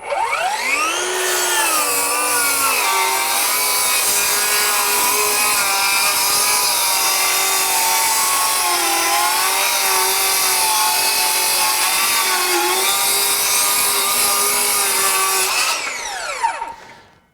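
A Metabo HPT 36-volt 7-1/4-inch Torque Boost circular saw running in torque mode while cutting through wood, with a loud, close, sustained motor whine that shifts slightly in pitch under load before spinning down at the end.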